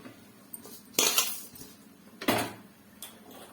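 A metal wok set down on a home gas stove, giving a few sharp clanks and clinks of metal on metal with quiet gaps between them and no talk.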